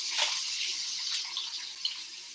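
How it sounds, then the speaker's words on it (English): Water runs from a tap over hands at a sink, a steady soft hiss that is fairly faint and close, with no talking. "Let me just wash my hands."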